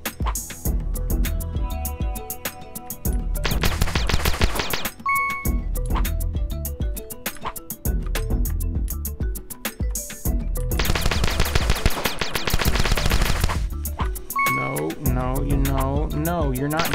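Rapid gunfire from the video game The Desolate Hope, loud bursts of shooting repeating across the clip over game music and chimes, with a voice speaking at times.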